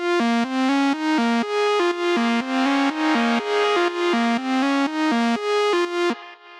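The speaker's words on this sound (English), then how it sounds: "I'm also sending it to this ping pong delay that makes it sound a lot wider and gives it a lot more space" Bright synth lead drenched in reverb and ping pong delay plays a rhythmic run of short, evenly spaced notes with a wide, spacious tail, then fades out.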